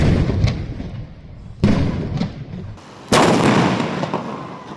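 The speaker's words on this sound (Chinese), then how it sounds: "爆炸声响起，烟雾缭绕" Blasts go off during a large disaster-prevention military drill, with three loud, sharp explosions a second or two apart. Each booms close by and rumbles away into echo.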